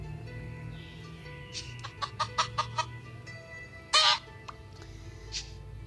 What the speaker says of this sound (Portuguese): Uma galinha. Vou matar essa galinha.